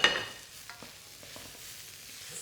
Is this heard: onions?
yes